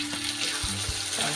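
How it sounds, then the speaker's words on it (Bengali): Chopped tomatoes pour into a pan of onions fried until browned, giving a brief, loud wet hiss and sizzle that lasts about a second, close by, with no talking. "এইবার আমি ঢেলে দেবো টমেটো"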